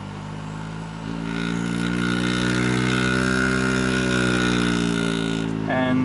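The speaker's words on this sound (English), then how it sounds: "this wobbles so much that it actually becomes scary" A hard drive motor on a cheap eBay BLDC driver spins up with heavy wobble, giving a steady rising whine rich in harmonics that climbs in pitch after about a second and holds loud, then shifts near the end.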